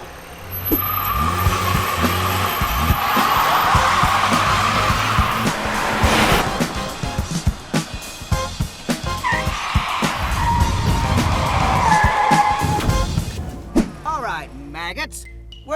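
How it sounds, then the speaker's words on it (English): A car passes on a road, its engine and tire noise swelling loud and close before fading, with other traffic rumbling around it and a person talking over the noise. "I can hear a car"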